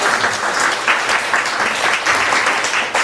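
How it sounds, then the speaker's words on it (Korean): A church congregation claps together in steady, sustained applause for a newly registered member, loud and close, with no voices over it. "박수 한번 하겠습니다."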